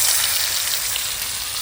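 Rain falls steadily outdoors with a dense, even hiss, pattering on surfaces near a spot where food is being cooked under an umbrella.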